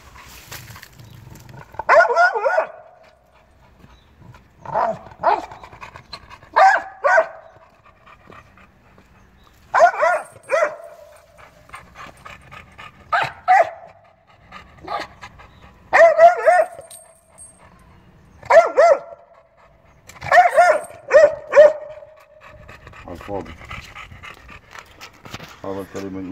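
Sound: dog barking

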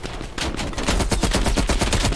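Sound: gunfire in Call of Duty Cold War video game

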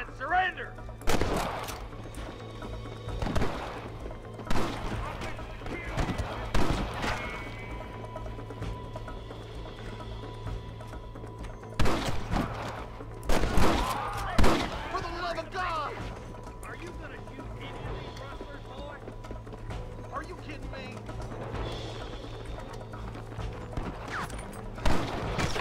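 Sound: gunfire in the video game Red Dead Redemption

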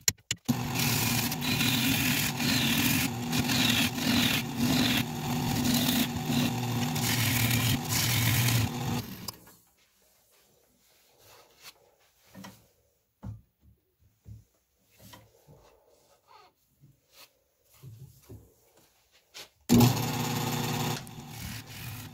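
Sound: woodturning tool cutting a thin rosewood bowl on a lathe

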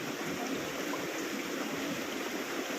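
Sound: flowing mountain stream

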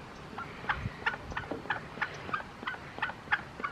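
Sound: duck

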